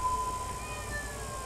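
A house cat meows faintly in the background, a single short call held over a low steady room hum.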